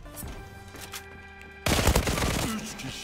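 A very fast-firing gun in the shooter Zula bursts in suddenly after a quieter stretch, a loud close rapid stream of shots that continues to the end.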